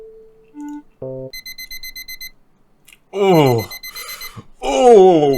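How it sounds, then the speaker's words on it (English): Alarm clock in an indie video game beeping in a short repeated electronic pattern, after a few game tones, followed by a voice groaning and speaking. "waking up 5 minutes before the alarm clock."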